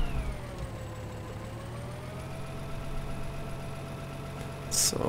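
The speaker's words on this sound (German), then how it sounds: "Das ist cool, wie er den Motor hochfährt." Vehicle engine in Landwirtschafts Simulator 15 winding up with a steady rising hum and slowly climbing pitch, fairly quiet and continuous, ending in a brief sharp noise burst.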